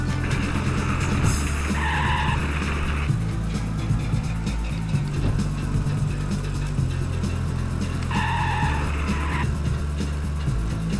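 A Trabant in the racing game Trabi Racer drones steadily through a run, its buzzy engine note holding loud and close, with two stretches of sharp tire squeal as it skids through corners.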